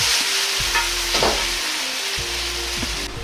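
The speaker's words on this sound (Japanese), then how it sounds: "余分な水分がなくなるまで炒めれば OK です" Ingredients stir-fried in a pan over high heat as soup is drizzled in, giving a loud, continuous sizzle with scraping and stirring strokes at a steady pace, close up and without speech.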